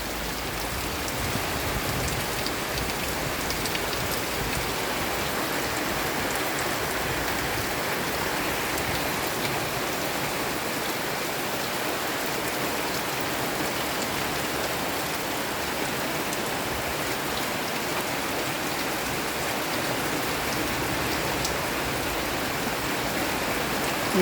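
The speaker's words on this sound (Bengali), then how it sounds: "এই মুহূর্তে প্রচুর পরিমাণ বৃষ্টি হচ্ছে" Heavy monsoon rain pours steadily in Cox's Bazar, a dense, continuous hiss of drops on surfaces that stays even and loud throughout with no voices.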